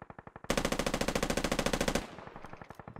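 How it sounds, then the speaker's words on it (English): Rapid automatic gunfire in a military video game: a loud, sustained burst of evenly spaced shots, preceded and followed by a few quieter single rounds, with an echoing tail as the firing stops. "he's continuing to shoot at Assault"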